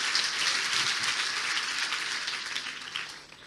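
A congregation at a church service clapping for Jesus, a dense steady wash of applause that holds throughout and fades slightly at the end, with no talk over it.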